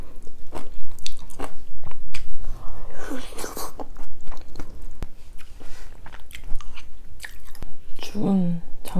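Abalone porridge being eaten close to the mic, with soft chewing, biting and wet squishy mouth sounds running throughout and a brief crunchy burst near the end.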